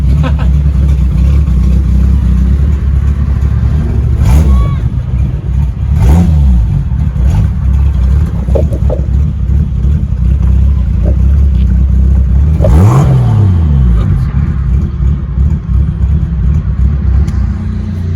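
A 1966 Triumph GT6, stripped down with no seat, drives along with a loud, steady engine rumble close by. Several brief revving surges rise above the continuous drone.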